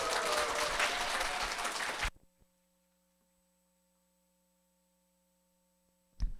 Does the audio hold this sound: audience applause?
yes